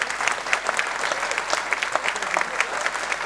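A studio audience at a literary late-night talk show gives sustained, even applause for an arriving guest, full and close with no speech over it.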